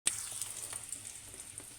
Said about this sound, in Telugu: పోపు గింజలు మంచిగా ఫ్రై అయిన తర్వాత